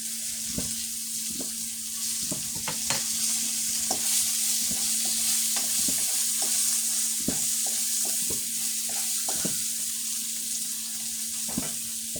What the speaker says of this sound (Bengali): এখন কেটে রাখা এই পেঁয়াজগুলো পটল ভাজিতে আমি দিয়ে দিলাম